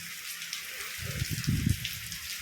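Rain falls in a steady hiss, with a brief burst of heavier splashing or rumbling partway through.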